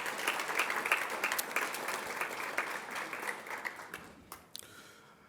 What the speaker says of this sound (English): let's give Commissioner Powell a round of applause as well